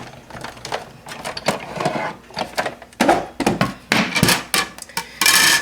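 A manual die-cutting machine feeds a sandwich of paper and a corner tile die through its rollers, producing a run of uneven mechanical clunks and knocks close by. No one speaks.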